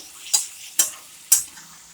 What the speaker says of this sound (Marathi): आता कोथंबीर टाकली मस्त हलवून घेऊ